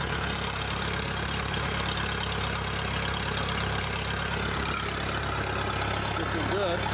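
Continuous low engine rumble of a 1986 Four Winns 170 Horizon boat's 3.0L MerCruiser engine idling steadily on its first start after winter storage, with no change in pace.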